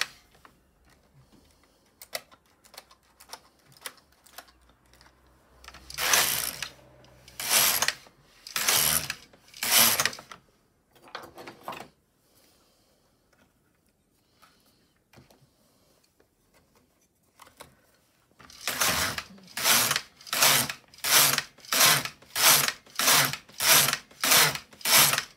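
Brother LK150 knitting machine carriage sliding across rows, a series of loud rhythmic mechanical swishes and clacks in two bursts, the second a fast regular run of about ten strokes, with quiet pauses between.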